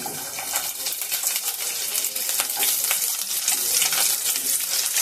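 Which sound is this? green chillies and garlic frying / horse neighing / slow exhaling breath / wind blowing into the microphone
green chillies and garlic frying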